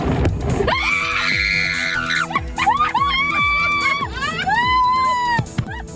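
People scream loudly in a haunted car wash decorated for Halloween, with repeated shrill, rising shrieks layered over one another and a thumping, mechanical background, close and intense throughout.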